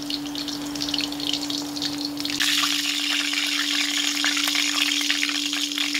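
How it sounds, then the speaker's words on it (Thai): Hot oil bubbles and sizzles in a wok while deep-frying pork and glass noodle balls, growing louder and busier partway through, over a low steady hum from a burner. "เราสังเกตน้ำมันเขาต้องให้มันเดือดทั้งกระทะ"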